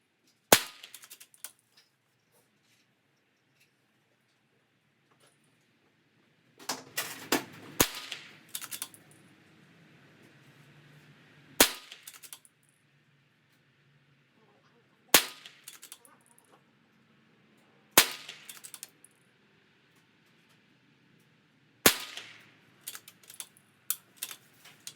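A Ruger Precision Rimfire rifle fires .22 Super Extra 40-grain lead round nose rounds, six or seven sharp, close cracks spaced several seconds apart, each followed by brief clicks and clatter of the bolt, with near silence between shots.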